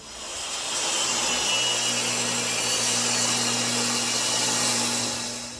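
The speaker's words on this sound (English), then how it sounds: "So I'm gonna rip this down to 2 3/4. That way we know it can fit." A saw rips a wooden filler strip lengthwise to width for a euro-style cabinet, a steady continuous buzzing cut with a low motor hum, loud and close, no talk.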